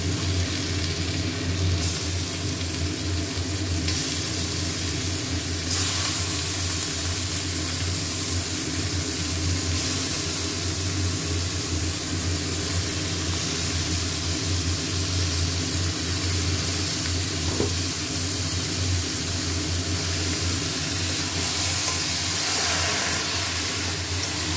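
Bombay duck fish frying in a pan gives off a steady, loud, unbroken hiss and sizzle that carries on evenly throughout, with no voice over it.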